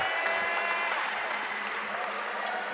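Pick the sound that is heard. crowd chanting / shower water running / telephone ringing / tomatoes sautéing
crowd chanting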